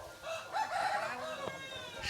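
A fighting rooster with a rope tied around its leg crows close by on a remote Sundarbans island, one strained call running most of the two seconds with faint background noise.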